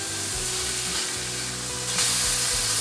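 A truffle cheese burger patty sizzling in a pan over medium heat, a loud, steady, close crackling fry that swells slightly near the end, with no talk over it.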